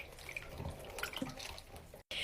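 Water sloshes and splashes in a sink packed with soaked stress balls, with soft wet squelches and drips close up, fairly quiet and broken by a brief cut near the end.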